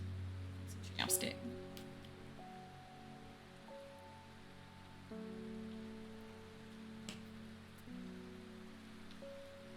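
Steady rain in the video game Strange Horticulture, a soft continuous patter under sustained musical tones, with a short louder clatter early on.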